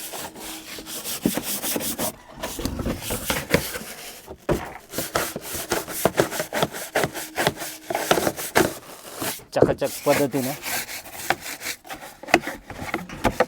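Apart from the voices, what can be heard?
scrubbing a wooden chair with Nirma detergent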